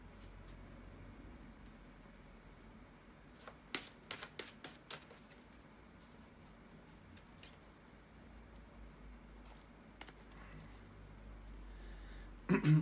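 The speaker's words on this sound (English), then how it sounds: "bear with me a second, guys, to shuffle the tarot cards" Tarot cards being shuffled by hand give a quiet, scattered run of short crisp flicks and taps, bunched in the middle and again near the end, over a low steady room hiss.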